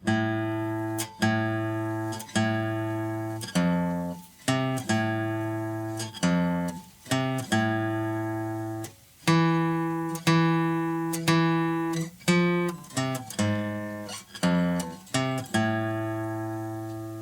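A guitar plucks a melody slowly, single notes one at a time with brief pauses, each note ringing and decaying, close and clear.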